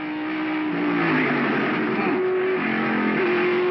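Onboard NASCAR stock car engine in Mark Martin's car, a loud close roar whose pitch rises and drops as the driver shifts and lifts, continuous for a few seconds.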